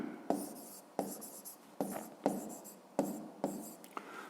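A pen scratching across paper while writing math homework, with about eight short, distinct strokes in a steady rhythm, close and quiet, and no voices.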